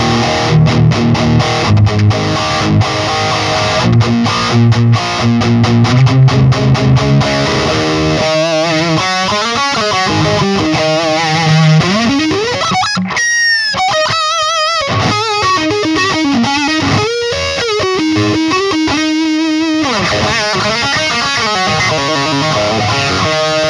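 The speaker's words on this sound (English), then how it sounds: "it's a really natural, organic sounding overdrive, which I think lends itself to tube amps beautifully" Electric guitar runs through a BB Preamp overdrive pedal into a tube amp, giving a warm, natural-sounding drive: choppy strummed chords give way to sustained, sliding lead notes, loud and unbroken throughout.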